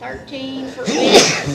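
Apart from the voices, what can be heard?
sneeze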